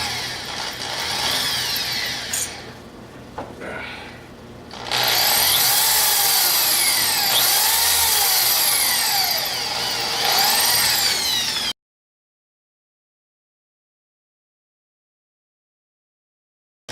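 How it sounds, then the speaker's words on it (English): A drill bores a cross hole for a pin through a cast iron lathe handle, a loud, whining mechanical run with a brief drop in the middle. It then resumes strongly and cuts off abruptly into silence. "so I'm going to drill through it."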